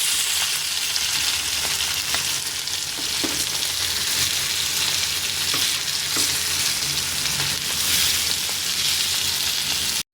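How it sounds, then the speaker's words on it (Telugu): Small fish fry in a pan of hot oil, a continuous close sizzle and crackle with occasional soft pops and stirring, no voices. "చేపలు ఒక పక్క ఫ్రై అయ్యాక రెండో పక్కకి టర్న్ చేసుకోవాలి"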